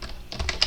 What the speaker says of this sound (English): we do that by the keyboard strokes of Control D